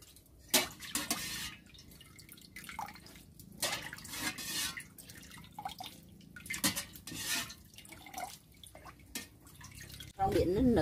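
Pieces of aloe vera are scooped out of a bowl of ice water, producing a string of separate splashes and drips with quiet gaps between them, close by and under a voice speaking.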